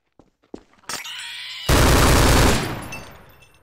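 Rapid automatic gunfire from a weapon in the zombie survival game Mesa Fallback, a loud sustained burst after a few sharp clicks and shots, then ringing away into a fading tail.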